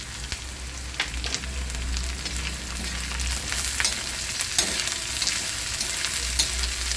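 Onion and green chillies fry and sizzle in a pan while being stirred during preparation of a dry zunka-style pitla, giving a continuous close hiss with scraping stirs and small crackles.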